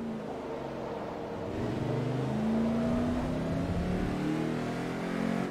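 A racing engine in the video game Forza Motorsport 3 revs steadily, its pitch climbing and sliding in layered harmonics, loud and continuous with a synthetic, game-like quality.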